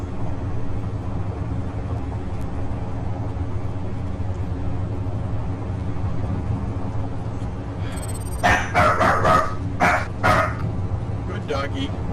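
A dog barks several times in a quick burst near the end, loud and close, over a steady low hum of background noise.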